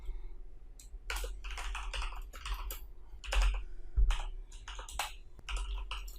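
Someone types PHP code on a computer keyboard, with rapid clusters of close, crisp key clicks broken by short pauses and a low background hum.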